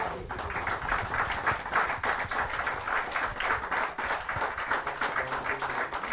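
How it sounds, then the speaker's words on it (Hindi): Applause from an audience welcoming a poet at a Hindi kavi sammelan, dense steady clapping that carries on without a break for several seconds. "जोरदार ताली के साथ हम उनका स्वागत करें।"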